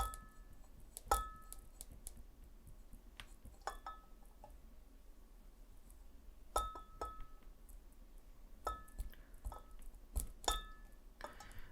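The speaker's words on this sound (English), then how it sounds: "Give this a little stir." Vinegar being stirred into a buffer solution in a glass, heard as scattered light glassy clinks and taps in quick clusters, close and fairly quiet with no talking.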